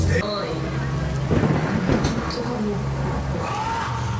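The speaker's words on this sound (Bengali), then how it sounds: "বৃষ্টি পড়ছে" Rain falling in a Bengali cartoon set during Durga Puja, a steady hiss of rain with a dull low rumble, loud and continuous, with some brief voice-like sounds mixed in.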